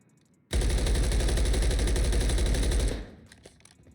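An MCW rifle in Call of Duty Modern Warfare III fires a sustained full-auto burst of rapid, evenly spaced shots lasting about two and a half seconds, then cuts off into quiet game ambience.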